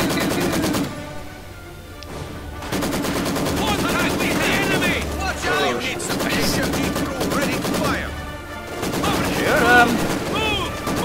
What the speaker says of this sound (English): HMG is firing on the target.